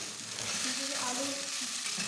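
Potatoes fry in a pan with turmeric and spices while being stirred, giving a steady close sizzle with soft scraping stirs running through it, no voices.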